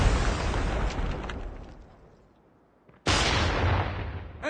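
A grenade goes off in a team deathmatch shooter game against bots, a loud booming blast that rolls away into quiet before a second sharp, heavy explosion hits and rumbles on.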